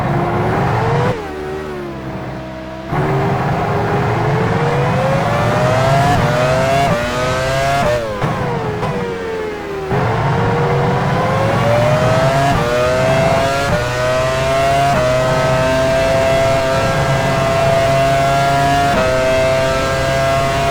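Formula 1 race cars at Indianapolis in the F1 Challenge 99-02 video game, a loud close engine whine rising and falling through gear changes, with brief drops as the car lifts, continuous throughout.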